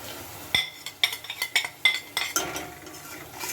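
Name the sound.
spices being added and stirred into browned onions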